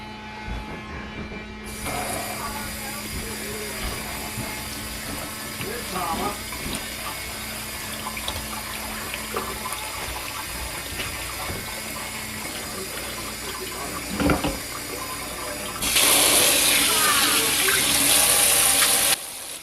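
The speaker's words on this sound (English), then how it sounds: "Simply fill a pitcher with cold water" Cold tap water runs continuously into a pitcher with a few clunks and rattles, the flow growing brighter and louder near the end as the pitcher fills.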